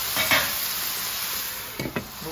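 Sausage simmering in a pan with water and seasoning gives off a steady soft sizzle and hiss, with a few brief stirring clinks near the end.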